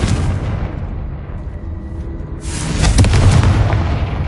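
A Confringo explosive spell blast in a video game, a deep rumbling boom that swells after a brief lull and rolls on loudly with crackling debris.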